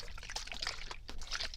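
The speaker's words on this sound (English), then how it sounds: "Let's just swish our water back and forth." Water swished back and forth inside a lidded cup, a soft continuous sloshing and trickling close to the microphone, with voices murmuring faintly around it.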